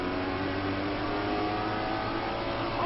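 A dirt-track race car, the No. 21 Little Debbie car, drones and revs steadily through a short stretch, with other engine noise filling in around it during a night dirt series final.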